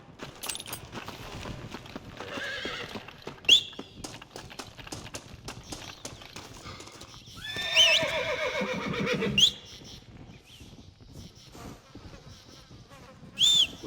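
Horses whinny in Red Dead Redemption, with loud neighs rising several times over a busy buzzing backdrop of outdoor game sound and sharp clicks.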